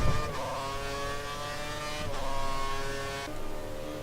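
F1 car engine in a racing video game at the Hungary circuit, revving hard under aggressive throttle with rising and falling harmonic tones and gear shifts, loud and steady throughout.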